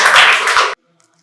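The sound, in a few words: audience clapping at quiz prize ceremony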